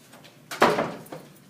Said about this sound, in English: Let me shut your door for you.